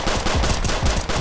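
Rapid bursts of gunfire ring out in a Roblox hood game set in the South Bronx. Several loud, close shots follow one another in quick succession, some sounding like machine-gun fire.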